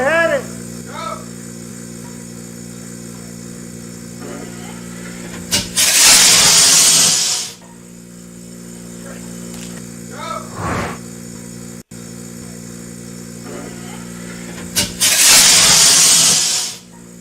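A model rocket motor fires inside a vacuum test chamber, two loud hissing roaring bursts lasting a couple of seconds each over a steady pump hum, with voices talking around them.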